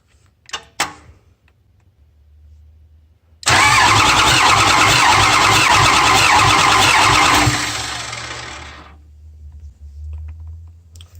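A Dodge pickup's 5.9 engine cranks over on the starter for about four seconds, a loud steady churning that drops away abruptly, with faint clicks before it starts.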